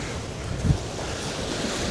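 North Sea waves wash steadily against the shore near a harbour, with a constant rushing roar mixed with buffeting wind against the microphone and a brief louder gust.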